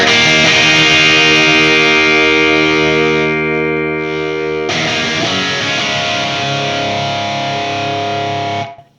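A guitar runs through a boost pedal with distortion, giving loud, thick sustained chords that ring, fade slightly, then a fresh struck chord rings out before cutting off abruptly.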